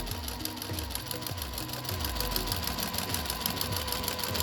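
A sewing machine stitches a fabric face mask cover in steady, rapid bursts, its close mechanical whir pulsing in short runs that pause and restart as the curved seam is sewn.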